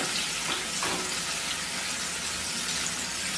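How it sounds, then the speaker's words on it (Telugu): Medium onions fry in hot oil with cumin, giving a steady, bright sizzling hiss close up that holds without pause. "రెండు మీడియం సైజ్ ఉల్లిపాయ ముక్కలు కూడా యాడ్ చేసుకుని చక్కగా వేయించుకోవాలి"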